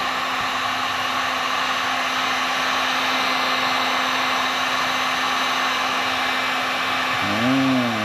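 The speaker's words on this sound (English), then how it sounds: "Trying to bring this old plastic back to life with a heat gun." Heat gun blowing hot air over old faded plastic trim on a K5 Blazer, a loud steady whooshing hum that holds constant for several seconds, with a brief pitch-wavering shift near the end and no talking.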